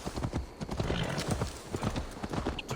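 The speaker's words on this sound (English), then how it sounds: "Sorry, I was just checking the horse's health." Horse hooves clip-clop rapidly in Assassin's Creed Valhalla, a busy rhythmic galloping clatter with a brief whinny, close and steady over ambient game noise.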